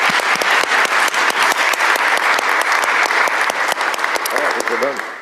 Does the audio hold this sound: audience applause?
yes